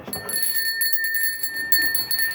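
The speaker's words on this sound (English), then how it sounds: "I heard the lunch bell." A bell rung as a lunch bell inside an old abandoned store, its bright sustained ringing tones filling the room with steady clear overtones, no speech over it.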